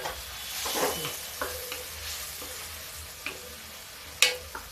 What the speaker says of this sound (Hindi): अब ये देखिए मेरा पक रहा टमाटर।